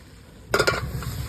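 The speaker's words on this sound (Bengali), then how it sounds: "এই পর্যায়ে আমি কুমড়োর ডাঁটাগুলো দিয়ে দিচ্ছি। আমি নাড়াতে থাকবো।" Pumpkin stems go into a pan of hot oil with green chillies and are stirred, giving a short burst of sizzling and scraping. A softer, steady fry follows, close and moderately loud.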